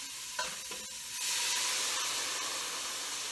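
Water pours into a hot pot with a loud steady hiss and sizzle after a few light clanks, continuing without break.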